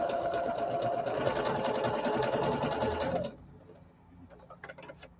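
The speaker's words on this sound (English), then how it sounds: "when you sew two pieces of fabric together" A sewing machine runs steadily, stitching two pieces of fabric together in a continuous loud whir for about three seconds, then stops abruptly, leaving faint clicks and small handling sounds.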